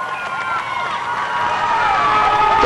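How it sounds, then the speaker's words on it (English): Spectators lining both sides of the 2004 Boston Marathon course cheer, whoop and holler in a sustained rising roar, with a commentator's voice running over the noise. "Crowds on either side, whooping and hollering, cheering"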